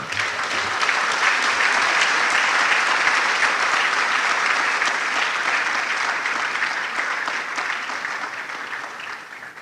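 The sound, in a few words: audience applause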